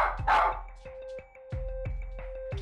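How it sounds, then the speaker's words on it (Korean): Poodle indoors giving a quick series of sharp, close barks and yips, spaced at a steady rhythm, with some muffled noise at the start. "짖음이 점점 잦아드는데요"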